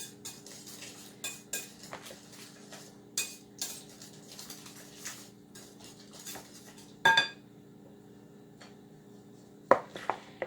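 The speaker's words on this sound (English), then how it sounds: "Stir that up really, really good with my whisk." A whisk stirs macaroni salad with carrots and pepper in a bowl, giving a steady run of soft scraping and clinking strokes, with a few sharper metallic clinks near the end.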